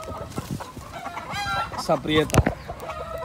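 Gallo Pava rooster and hen, a fine Dominican fighting breed, clucking and calling close by in short bursts, with a voice speaking over parts of it.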